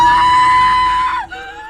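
A woman screams in a horror film, one long sustained shriek held loud and steady before it breaks and drops off into a weaker tail.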